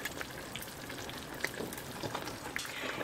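Duck legs frying with apples in a pan as they are turned, a steady soft sizzle with scattered pops and crackles, close and fairly quiet, with no voices.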